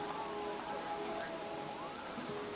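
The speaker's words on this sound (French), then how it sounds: "j'entends un bruit de pluie" Steady, even rain patters throughout in a SimCity city scene, with faint tonal game ambience underneath and no talking.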